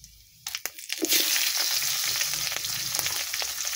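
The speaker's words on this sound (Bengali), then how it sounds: "ফোড়নটা ভেজে নেব।" Tempering spices drop into hot oil in a pan for a prawn, potato and eggplant curry, setting off a sudden loud sizzle after a couple of knocks that settles into a steady crackling fry, close by and without talk.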